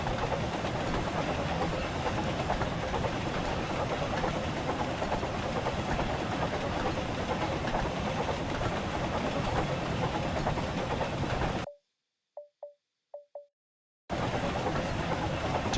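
A train in a Thomas & Friends game rolls and slows under braking, a steady rumbling rail noise, then a sudden drop to silence broken by a few faint pips before the rumble returns.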